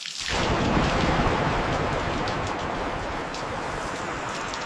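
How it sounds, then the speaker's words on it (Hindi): Heavy rain pours steadily in a continuous loud hiss, with a deep rumble of thunder rolling in at the start and slowly fading beneath the downpour. "बारिश आ रही है"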